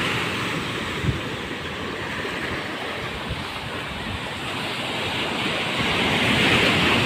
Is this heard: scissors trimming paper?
no